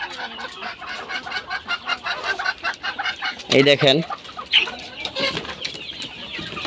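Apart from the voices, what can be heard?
hill chickens and roosters clucking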